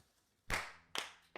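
Three sharp hand claps ring out alone at uneven intervals, each a crisp, loud burst with a brief decay and near silence between them.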